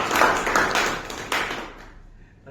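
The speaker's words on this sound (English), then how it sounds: "let's have a clap" An audience at a club meeting gives a short burst of clapping that thins out and fades to near quiet within about two seconds.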